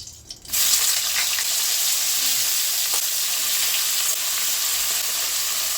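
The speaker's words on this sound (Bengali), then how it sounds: "কড়াইতে তেল আছে বেগুনগুলো আমি ভেজে নেবো" Eggplant pieces drop into hot oil in a wok and a loud, dense sizzle erupts at once, then holds steady and close with faint crackles throughout.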